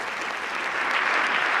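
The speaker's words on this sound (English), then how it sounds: "Probably the easiest applause of the night" Dense, steady applause from a large audience at a White House Correspondents' Dinner, a continuous wash of clapping that stays loud and even throughout, with no voices heard.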